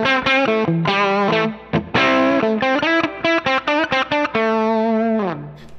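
An electric guitar played through a Line 6 Helix vintage amp model with softened, lighter distortion rings out in loud sustained chords and then quick choppy stabs, ending on a long held chord.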